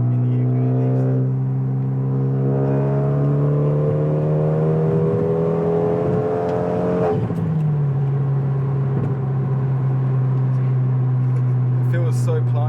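A Renault Megane 275 RS Mark III engine revs loud and close, rising steadily for several seconds, then dropping back to a steady drone as talk runs over it.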